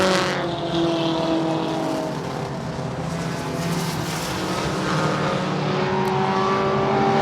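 Race car engines roar steadily around the Hermiston Raceway track, several cars droning and whining together at a constant, loud, sustained level with no talk.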